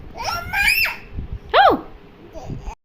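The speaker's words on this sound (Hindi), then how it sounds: "इसको नहाने के बहुत रोने ये लड़के को, कैसे जोर से रो रहा है, देखो चीख मार के।" A small boy cries and screams loudly while being bathed in a village home, giving several sharp rising wails in short bursts, close and shrill, with brief pauses between them.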